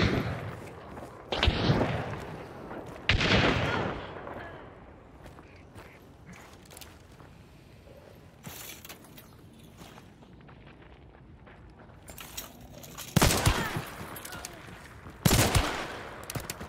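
Gunfire rings out during a solo bounty-hunt shootout in a video game: several loud, sharp bursts of shots stand out against a quieter rumbling background, with a pair of blasts near the start and more near the end.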